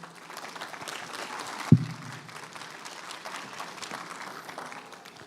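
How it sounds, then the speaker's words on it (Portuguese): A church congregation applauds in a service hall with a soft, steady patter of clapping at moderate distance and a single sharp thump near the start. "Aplauda o Senhor."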